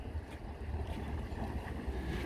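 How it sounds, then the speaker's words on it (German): Boat engines idle with a steady low rumble while the boat moors on the IJsselmeer, mixed with wind and water noise and no talking. "Wie immer laufen die Motoren noch,"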